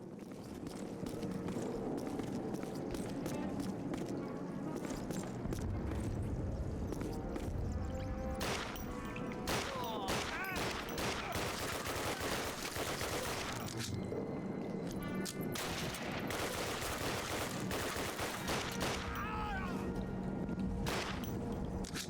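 Rapid bursts of gunfire in Call of Duty, in Stalingrad sewers, crack repeatedly over a dense, busy game soundscape, with sharp shots clustered in quick volleys throughout.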